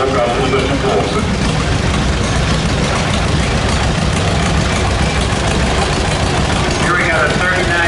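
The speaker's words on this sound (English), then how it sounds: "Got a 39 John Deere H" A 1939 John Deere H tractor engine runs steadily through a show-grounds parade, a continuous low idling rumble with crowd noise and distant voices mixed in throughout.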